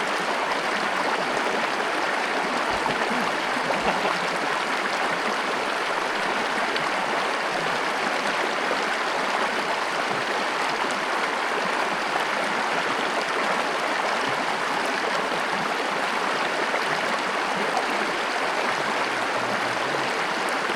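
Clear stream water flows in a steady, close, full rush that holds even and unbroken throughout, with no voices.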